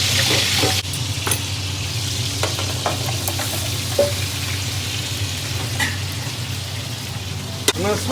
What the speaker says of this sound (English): I'm going to slightly sear these